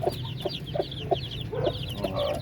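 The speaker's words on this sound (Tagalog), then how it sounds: "Tapos meron pa tayong ibang mga sisiw dito mga Pinoy, mga upgraded na native." Native chicks and upgraded native chickens inside a coop give repeated short clucks and peeps at a moderate distance, with a steady barnyard hum underneath and no talking.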